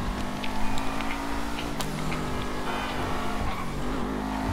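A car driven in GTA 5 produces a steady engine drone that holds level throughout, with faint ticking and a brief skid-like scrape partway, and no talking over it.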